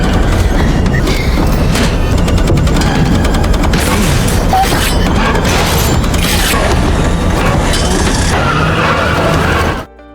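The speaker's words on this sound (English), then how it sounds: "The butcher appeared on the car's roof and swung an axe, shattering the sunroof." A car's sunroof is smashed by an axe swung from the roof, heard as a loud, dense, continuous clatter of crashing and shattering glass amid booming impacts that runs the full length before cutting off abruptly.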